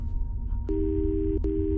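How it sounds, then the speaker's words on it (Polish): A telephone in a Roblox horror game gives two steady electronic tones, each lasting most of a second with a short gap between them, over a low background hum. No one speaks. "Ty, losowy telefon dzwoni?"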